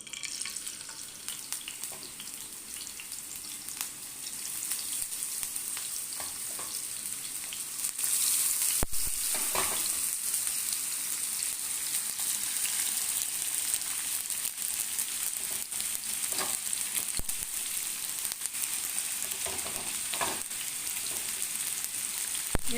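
Cut potatoes frying in hot ghee on a flat griddle for cumin potatoes, a steady close sizzle throughout that grows louder partway through, with occasional stirring clinks and no talk.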